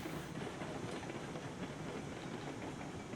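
A long freight train rolls steadily in the Railroads Online video game, giving a continuous, faint, broadband rumble and rushing noise with no distinct breaks or talk.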